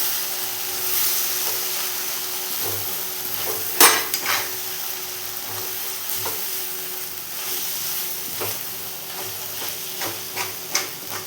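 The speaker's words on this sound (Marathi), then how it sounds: "मी शेंगदाण्याचं कूट ॲड करत आहे, 1 चमचा मोठा आणि ते मिक्स करून घ्यायचं आहे" Peanut powder being stirred into a fenugreek leaf (methi) stir-fry in a pan: a steady sizzle with repeated scraping stirs and a few sharp spoon knocks against the pan, alone without talk.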